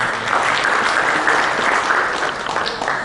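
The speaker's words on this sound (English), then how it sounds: "A round of applause for sir." Steady, dense audience applause at a banking and financial services technology conference, many hands clapping continuously and evenly for the whole stretch, loud and unbroken with no voices above it.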